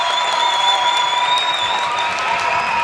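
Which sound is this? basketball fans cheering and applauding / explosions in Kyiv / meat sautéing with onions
basketball fans cheering and applauding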